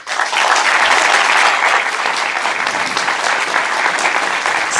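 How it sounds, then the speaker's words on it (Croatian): Sustained, dense applause from an audience at a secondary school's anniversary celebration in Glina, loud and steady throughout with no speech over it. "najvećim pljeskom pozdravite upravo njih"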